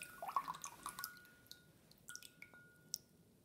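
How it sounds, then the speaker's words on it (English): Liquid dripping from a melting toy dinosaur egg onto a map, with scattered soft drips and small wet clicks and squishes, faint and close, and no one talking. "Oh, it's literally dripping on the map."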